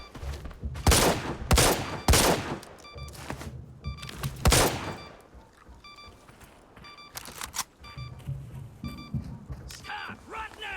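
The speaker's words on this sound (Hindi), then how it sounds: "एंड गेम के जो स्नाइपर के साउंड है वो भी उतना ज़्यादा कुछ पॉलिश नहीं है" Sniper rifle shots ring out in the mobile shooter game Arena Breakout, several loud sharp cracks spaced a second or two apart, with game sounds and voices in between.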